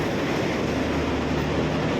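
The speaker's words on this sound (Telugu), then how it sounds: "ఏంటి మన ట్రైన్స్కి డీజిల్ లోకోమోటివ్ పెట్టారు." A special passenger train hauled by a WDG-3A diesel locomotive pulls in, filling the air with a steady, loud rumble and mechanical roar that holds constant without pause.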